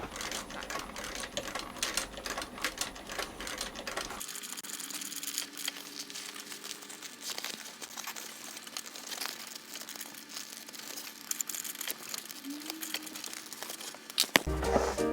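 Leather upper of a one-piece loafer stitched by hand from the inside, giving repeated crinkling, rustling pulls of thread through leather, fairly close and steady, with no voices.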